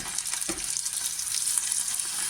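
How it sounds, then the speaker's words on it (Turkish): Minced meat fries in a pan with a loud, continuous hissing sizzle and one quick stirring scrape early on, with no voices. "Şimdi kıymayı burada kavuracağım ve üstüne ekleyeceğim."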